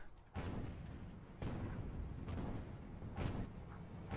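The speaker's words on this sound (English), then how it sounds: "Heavy flak!" Heavy flak guns booming in an airship battle video game: four loud, broad blasts spaced about a second apart, each trailing into a dense rumbling roar, with no talk.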